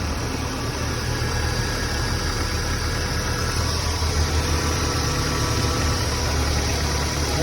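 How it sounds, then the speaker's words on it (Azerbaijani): A Hyundai ix35 car engine idles steadily, a continuous low rumble with an even hum and no revving, close by and with no voices. "Maşınımız rahat işləyir."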